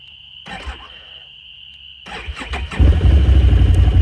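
A steady electronic whine, then a starter cranks in short bursts before the engine of a 2023 Can-Am Outlander 850 ATV catches and settles into a loud, rumbling idle close by.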